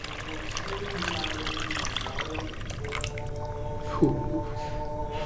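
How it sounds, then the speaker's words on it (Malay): Tamarind water poured into a cooking pot of simmering oil for a Malay fish dish, a wet trickling and dripping splash with a squishy burst near the end, steady and close, no talk. "Masukkan air asam jawa sebab dia dah pecah minyak."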